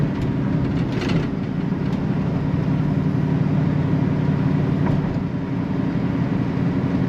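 A 1967 Ford Ranchero's engine runs at a steady low rumble from inside the cab while driving, a continuous even drone with road noise and no talk.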